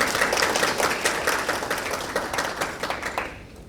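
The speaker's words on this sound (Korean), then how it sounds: "큰 박수 부탁드립니다" Audience applause at a regional tech startup idea competition, dense crowd clapping loud and close, tapering off toward the end.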